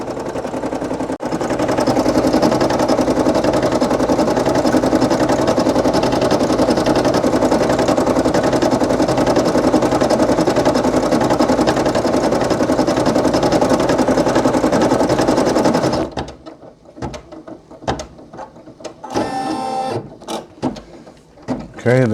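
A Brother PE800 embroidery machine stitches a design with a loud, steady mechanical whir for about sixteen seconds, then stops; afterward only scattered clicks and a short burst of a voice are heard.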